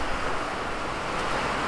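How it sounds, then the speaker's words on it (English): Steady, dense hiss of rain drumming on a metal roof, continuous and fairly loud with no pauses. "It is the rain hitting my tin roof."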